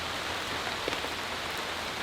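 Heavy rain pours down steadily in a dense, even hiss of drops on surfaces, loud and continuous throughout with no talking.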